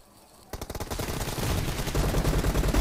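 Rapid gunfire in the mobile battle royale PUBG Mobile, a quiet lull then a sudden burst of dense automatic shots that keeps going loud and steady to the end, with a voice faintly underneath.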